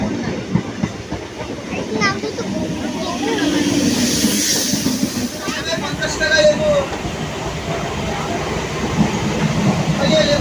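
A moving passenger train's interior carries a steady rumble, rattling carriage noise and hiss throughout. People talk over the din at times.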